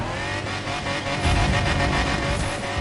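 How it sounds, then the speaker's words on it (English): An old-school car engine in The Crew 2 racing game runs loud and steady, rising in a revving surge about halfway through with a hint of tire noise, no talking. "It sounds like an old school engine"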